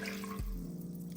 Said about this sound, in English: I am going to add some water, which is my 4 cups of water.